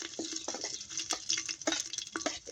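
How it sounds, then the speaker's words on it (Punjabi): Cumin, coarsely crushed ginger and garlic frying in hot ghee for a chana dal and bottle gourd curry, a quiet close sizzle punctuated by light scraping and clinking spoon strokes in an uneven rhythm. "ਘਿਓ ਹੋ ਗਿਆ ਗਰਮ ਤੇ ਹੁਣ ਆਪਾਂ ਇੱਕ ਚਮਚ ਪਾ ਦਿੰਦੇ ਆ ਜੀਰੇ ਦਾ"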